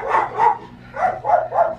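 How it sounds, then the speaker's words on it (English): Several dogs at a home in Aruba barking in short bursts, two quick barks then a pause followed by three more, moderately close and alone with no talking. "the dogs are making a lot of noise"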